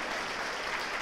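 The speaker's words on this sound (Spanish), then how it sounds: "Dele un aplauso a Cristo" Church congregation applauding in a brief, dense wash of hand claps that fills the space evenly.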